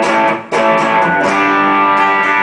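Electric guitar through a Boss GT-10 multi-effects unit on its Fire preset set at 50%, into a Fender Twin Reverb: a short burst of saturated, distorted chords, loud and close, with a brief dip before the sound rings on.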